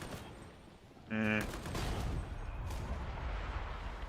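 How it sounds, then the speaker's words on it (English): Sniper gunfire in the video game Damnation gives a sharp, loud report, then a lingering rumble of distant battle noise. "that's snipers. Snipers have set up now."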